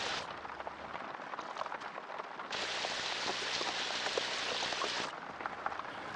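Heavy deluge of rain pouring down, a dense hiss of drops on the ground that swells louder midway and then eases slightly, with no voices.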